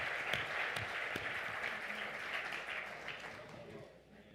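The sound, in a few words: audience applause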